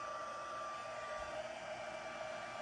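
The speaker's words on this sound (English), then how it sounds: "I'm going to make a little bit of noise just to heat up the powder on all 3 of these." Embossing heat tool blowing steadily to melt powder on a card, producing a continuous close whooshing hiss with a faint whine, with no voices.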